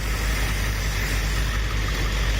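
A custom Toyota 3.4 engine swap with a missing throttle body screw and a slack throttle cable, running at a loud, steady idle right up close for the whole stretch.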